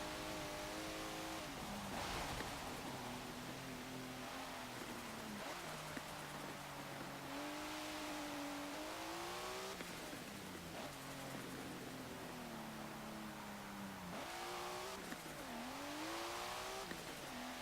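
A 1992 Mitsubishi Galant VR-4 engine in Forza Motorsport 7 revving hard through repeated gear changes, each climb ending in a drop as it shifts, loud and continuous with no talk.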